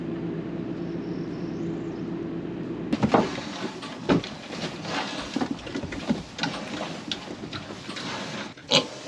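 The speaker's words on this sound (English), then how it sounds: "They are Berkshires, and they are a heritage breed pig." Five-week-old Berkshire piglets, a heritage pig breed, root and shuffle close by on a small Nova Scotia homestead, with soft grunts and oinks alongside bumps and rustling after a quieter stretch.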